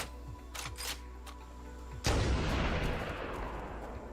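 In Halo: Combat Evolved Anniversary, a sniper rifle fires one heavy booming shot with a long rumbling tail, preceded by a few light clicks and faint game ambience.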